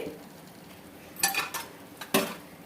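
Chicken biryani being stirred in a pot with a spoon, a few quiet scrapes and two distinct metallic clinks against the vessel over a soft simmering background, close by, with no talking.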